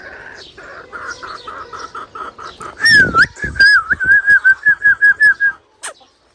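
Chickens in a coop on a farm cluck in a quick rhythmic series of sharp calls, loud and close, joined midway by a high wavering whistle-like tone.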